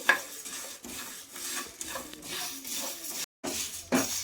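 Shahjeera and other whole spices dry roasting in a pan, with steady scraping and stirring strokes against the metal running throughout, a brief pause near the end, no talk.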